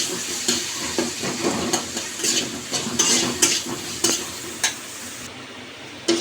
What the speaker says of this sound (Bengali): এবার দিয়ে দেব বড় সাইজের একটা পেঁয়াজ কুচি। ভালো করে নেড়ে চেড়ে মিশিয়ে নেব।